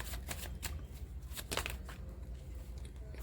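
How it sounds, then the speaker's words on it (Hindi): Tarot cards shuffled close up, a soft rapid riffling and flicking with a few sharper snaps, quiet and continuous throughout. "फर्स्ट मैंने कार्ड को शफल कर लिया है।"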